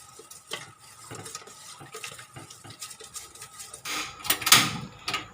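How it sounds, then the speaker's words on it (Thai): Rice flour, coconut milk and salt are stirred in a pot for a Thai mung bean dessert, with faint, steady spoon strokes and scrapes that grow into louder clattering near the end. "คนให้แป้งกับกะทิแล้วก็เกลือเขาเข้ากันนะคะ"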